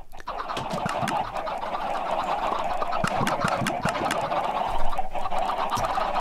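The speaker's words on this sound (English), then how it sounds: "He built a chicken cooker and there's over 200 chickens in there." Over 200 chickens crammed into a Minecraft chicken cooker under a glass dome make a dense, continuous racket of overlapping clucks and squawks that holds steady throughout.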